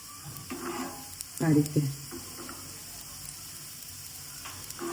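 A large masala dosa fries on a pan over a small gas flame, giving a soft, steady sizzle broken by a couple of louder scraping bursts from the spreading.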